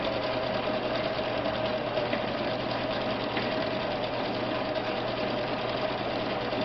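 A vintage Viking 6690 sewing machine runs a decorative stitch with a steady, close mechanical hum and rapid needle chatter, continuous and even throughout with no voices.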